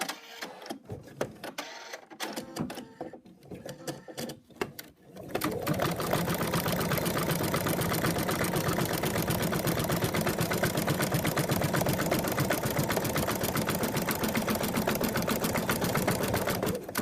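An embroidery machine stitches a mouse design. After several seconds of scattered clicks and handling noise it settles into a long, steady, rapid rhythmic chatter, close and even, with no talking.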